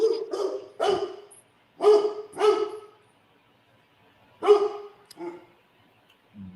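A dog barking nearby in a series of sharp, loud barks, grouped in quick bursts with pauses between them, and a soft whine near the end.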